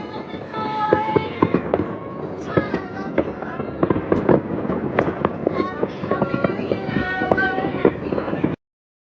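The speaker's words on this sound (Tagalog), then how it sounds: "There's so much fireworks" New Year 2024 fireworks crackle and bang in a dense, continuous barrage of sharp pops, loud and close, with voices in the background.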